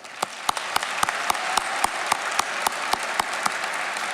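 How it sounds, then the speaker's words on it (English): An audience at an awards luncheon applauds steadily, a full, even wash of clapping punctuated by regular sharp claps from someone nearby. "let's give all these artists and their great work a round of applause"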